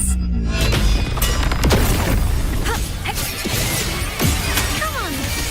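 Cannon fire in the video game Wuthering Waves, heavy booming blasts and crashing impacts that repeat loudly across the whole stretch over a dense, busy game soundscape.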